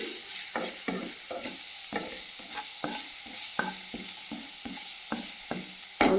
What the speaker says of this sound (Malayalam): കറിവേപ്പില ഇട്ട് നമ്മൾ അരച്ചെടുത്ത ഇതും വെളുത്തുള്ളി കൂട്ടും അതിനകത്തിട്ട് ഒന്ന് ചൂടാക്കി